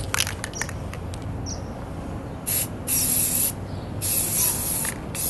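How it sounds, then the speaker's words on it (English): An aerosol can sprays paint onto steel to inhibit rust, heard as close hissing bursts. Two longer, louder sprays stand out over a steady background hiss. "So I'm going to paint my steel just to make sure that I'm inhibiting rust as much as I can."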